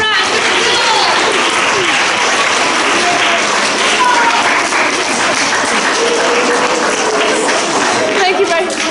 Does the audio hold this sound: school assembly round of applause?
yes